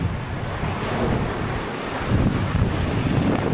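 Rough sea waves break along the shore under gusting wind that buffets the microphone, a continuous loud roar of surf and rushing air with a swell rising near the end.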